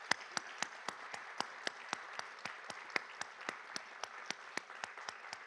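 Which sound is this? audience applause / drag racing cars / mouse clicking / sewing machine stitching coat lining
audience applause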